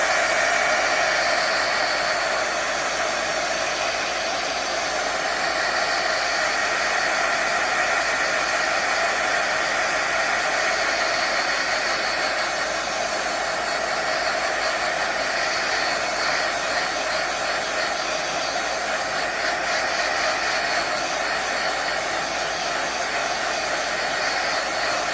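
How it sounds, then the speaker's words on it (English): Heat gun blowing steadily over freshly poured resin in a mold to pop bubbles, a constant loud hissing whoosh that runs unbroken with no talking. "I am going to just heat gun this to maybe remove some of the bubbles"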